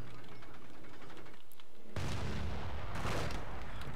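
Artillery fire in the Company of Heroes video game booms loudly after a brief lull, with a heavy blast followed by a second burst and rumbling battle noise.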